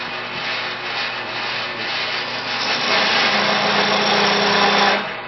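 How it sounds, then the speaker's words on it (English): A spindle gouge cuts a shoulder into spinning wood on a lathe, giving a steady rough scraping hum from start to finish that grows louder and heavier toward the end before it stops. "I need to make a shoulder here using my spindle gouge on the side."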